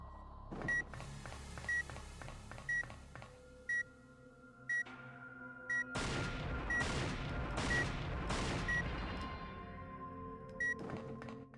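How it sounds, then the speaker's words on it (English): A repeating electronic beep from an elevator in the video game Devil May Cry 2, chiming at steady intervals alongside low game ambience, with a denser, louder burst of noise partway through. "is that just the elevator beeping?"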